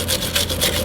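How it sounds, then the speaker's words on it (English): Rusty tie rod threads on a Dodge Caravan scrubbed clean, a close, loud, continuous scratchy rubbing with quick back-and-forth pulses over a faint low hum. "go in and scrub your threads up real good"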